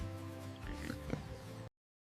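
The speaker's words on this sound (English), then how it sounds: "pig" A pig oinks and snorts close by, a short run of grunting calls over a low steady hum that ends abruptly.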